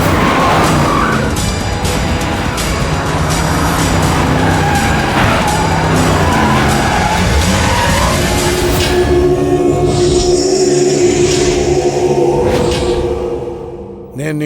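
A car speeds and skids through a loud action-film scene, its engine roar and tire noise dense and continuous, mixed with music and effects and rising into a sustained squeal near the end.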